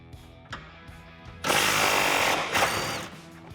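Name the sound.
socket removing 13 mm bolts from Mustang exhaust hanger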